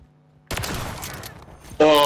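A sudden loud burst of video game gunfire in a 1v1 match, sustained for over a second and then followed by a brighter, louder blast, with a voice talking in the background.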